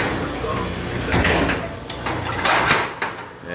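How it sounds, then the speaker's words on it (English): A baler machine door is brought down, giving a few sliding, clattering metallic thuds in quick succession, fairly close, with someone talking over it. "First, I'm going to bring this door down."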